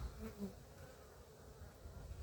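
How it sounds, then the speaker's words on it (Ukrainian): A honeybee buzzes in flight near the hives in late winter, a faint, close drone that swells briefly at the start and then fades under low background noise. "Хоче, хоче бджолка літати"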